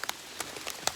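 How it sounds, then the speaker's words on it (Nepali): Raindrops begin to fall on an outdoor trail on the way to a waterfall, with a few sharp separate patters over a soft steady hiss, light and close. "अघि पानी परेको थिएन अब पानी पर्न सुरु भएछ एकदम"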